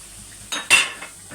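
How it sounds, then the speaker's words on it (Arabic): Spices and curry are stirred in a cooking pot, with a couple of quick metal clanks and a scrape from the spoon against the pot, close and brief against a quiet background. "هنقلب كده على طول"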